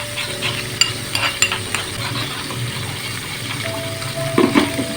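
Half a cup of yogurt is stirred with a spoon in a bowl while preparing achari dal mash: a steady scraping, swishing texture with occasional light clinks, close and fairly loud.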